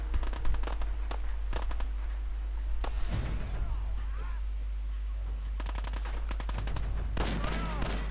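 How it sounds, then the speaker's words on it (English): Bursts of rapid gunfire in the video game Fallout 4 crackle in clusters, some single shots and some machine-gun volleys, over a constant low hum with faint voices. "I hear gunfire."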